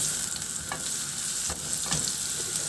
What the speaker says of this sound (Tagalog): At igisa ko na yung bawang.